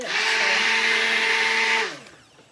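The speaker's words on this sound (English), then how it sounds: "You don't want to just leave your blender in here and your soap mixture to you know, kind of just sit." A blender whirs steadily as it mixes a soap mixture, a loud, even motor drone that holds for about two seconds. It then winds down and stops.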